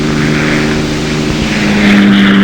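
A P-51 Mustang single-engine propeller fighter drones past, a loud steady propeller hum that swells slightly toward the end, with no speech.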